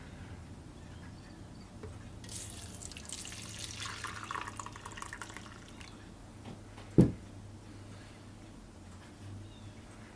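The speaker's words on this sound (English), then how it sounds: "let's go get our hot soapy water and get our ultrasonic going." Hot tap water runs into a sink to fill it with soapy water for an ultrasonic cleaner, a steady rushing hiss of a few seconds that then cuts off, followed by a single sharp knock.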